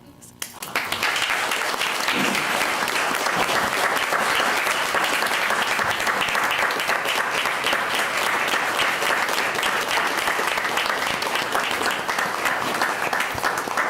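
Loud, sustained applause from an audience at a county board of commissioners meeting, beginning abruptly and filling the room steadily for the full duration, with scattered voices mixed into the clapping.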